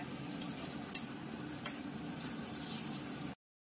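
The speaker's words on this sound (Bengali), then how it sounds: "পেঁয়াজটা ভাজা ভাজা হয়ে গেছে, এবার দিয়ে দেওয়া হচ্ছে মাছের তেল।" Fried onion sizzling steadily in a pan as hilsa fish oil is added, with a couple of sharp clinks of a utensil against the pan near the start and no talking.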